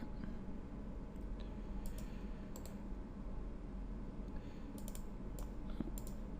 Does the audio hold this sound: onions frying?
no